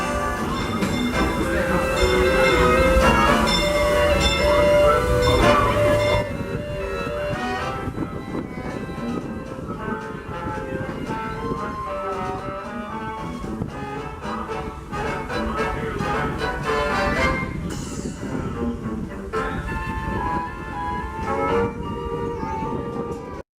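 The Disneyland Railroad train, pulled by the Fred Gurley #3 steam locomotive, rolls into a station with steady rumbling and clanking wheel noise, some higher ringing tones, and a continuous mechanical din.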